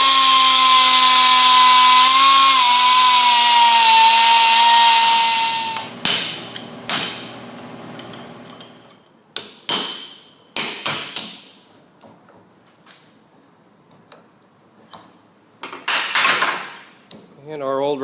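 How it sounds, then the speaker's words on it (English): A cutoff wheel grinds a slot into the old bearing race of a 2003 Honda Civic front wheel hub with a loud whining screech for five seconds, then a chisel taps it off in sharp, irregular metallic clinks. "take a cutoff wheel, cut a slot in it diagonally, and then take a chisel and tap it off of there"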